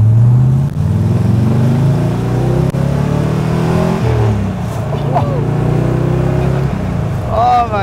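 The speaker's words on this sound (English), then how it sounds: "Here we'll be able to hear the car a little bit." AC Cobra sports car engine while driving at around 50 to 60 mph, a loud, deep rumbling drone heard from inside, with gear changes shifting the pitch and people talking over it.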